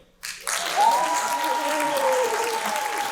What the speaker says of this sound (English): please give a round of applause to Denzel Frank.